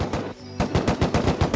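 Close, loud automatic bursts from an AK rifle in the survival game Rust, a brief gap and then a steady rhythmic string of shots.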